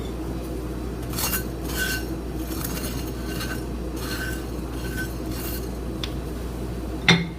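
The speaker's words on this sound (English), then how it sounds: "I've transferred the spices over to my mortar and pestle where I'm going to grind them" Spices for homemade harissa are ground in a mortar and pestle, with a run of scraping, knocking strokes over a steady low hum and a sharper clink near the end.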